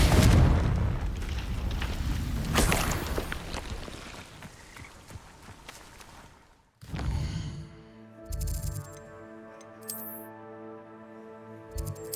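In Hogwarts Legacy, a Confringo fire spell bursts with a rumbling boom and crackle, followed by a quieter stretch of game music and chiming tones.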